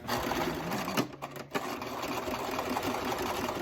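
A sewing machine stitches steadily through the thick side seam of jeans while hemming them to keep the original hem, with a brief slowdown about a second in, then continuous close, loud whirring.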